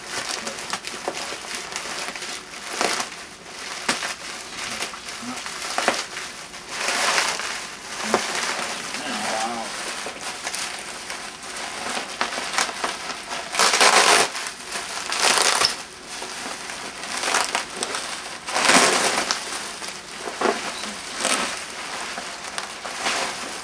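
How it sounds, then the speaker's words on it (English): Wide packing wrap is pulled and unwrapped from a Sony CFD-F10 CD radio boombox, giving repeated crinkling, crackling bursts and tearing rustles at close range, uneven in rhythm, with occasional faint voices. "Just pull that there and unwrap this thing."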